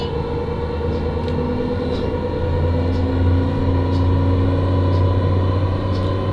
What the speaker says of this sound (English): Oh, train line!